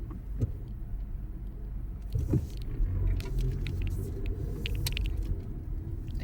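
Busy pay parking area in Al-Ain with many cars: a steady low rumble of idling and passing vehicles, continuous and moderately loud, with scattered faint clicks and knocks over it and no clear talk.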